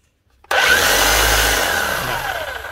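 A Bosch rotary hammer drill under repair starts up abruptly and runs loudly and steadily, a continuous whirring motor drone with no hammering action, spinning only, and no voices.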